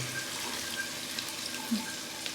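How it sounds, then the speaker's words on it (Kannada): A cup of water poured into beetroot palya cooking in a pan: a soft, continuous trickling splash, quiet and close, with no talking. "ಇವಾಗ ಒಂದು ಕಪ್ಪು ನೀರು ಹಾಕ್ತಾ ಇದ್ದೀನಿ"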